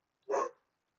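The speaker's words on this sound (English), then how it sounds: "Very sorry if you can hear my dog." A single short dog bark sounds indoors, brief and moderately loud against otherwise quiet surroundings.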